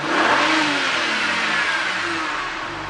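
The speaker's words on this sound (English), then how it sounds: "Let me rev it now." A BMW N54 twin-turbo engine in an E90 335i with a suspected bank 2 boost fault revs up to around 3,000–4,000 RPM, a loud, close, rising roar that holds and then eases off, with no talking.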